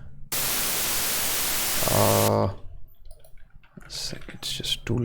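Synthesized white noise from Pure Data, a dense broadband hiss that holds steady for about two seconds, briefly gains a pulsing amplitude-modulated buzz, then cuts off, leaving faint clicks and scattered quiet sounds.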